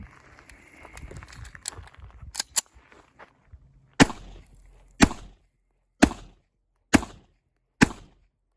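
Black powder 9mm rounds are fired from a Browning Hi-Power pistol: five loud, sharp shots at roughly one-second intervals, preceded by lighter mechanical clicks and handling noises.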